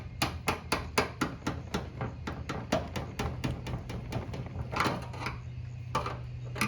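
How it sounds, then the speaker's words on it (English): A screwdriver taps repeatedly on the fuel tank lock ring of a 1991 Buick, a quick, regular run of sharp metallic knocks close by, slowing slightly toward the end over a low steady hum. "we gotta rotate our ring. Yeah, probably need our screwdriver to do that with."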